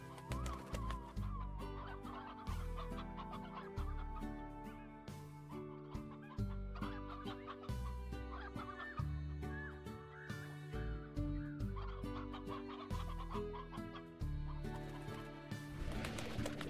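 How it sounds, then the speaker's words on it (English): Chickens cluck in the video game Slime Rancher, set against steady, loud game music that runs throughout and partly masks the birds. "After I get this chicken."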